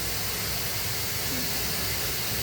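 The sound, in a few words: pet blower drying a golden retriever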